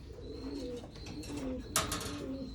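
Racing pigeons of Japanese line, including a Louis Opel bird, coo from a breeding loft: a soft, low, steady purring coo close by, with a brief sharper chirp near the end and no voices.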